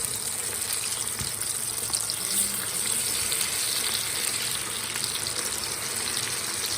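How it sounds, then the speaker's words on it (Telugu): Chicken pieces deep frying in hot oil, a steady broadband sizzle and bubbling that runs throughout at moderate loudness with no talk over it. "ఆయిల్ కాగిపోయింది ఇప్పుడు మనం ఒక్కొక్క పీస్గా వేసుకుందాం దీనిలో"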